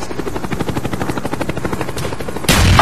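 A Cobra attack helicopter arriving in Call of Duty: Black Ops, loud rapid rotor chopping pulses throughout, ending in a sudden burst of broadband noise like gunfire or engine roar.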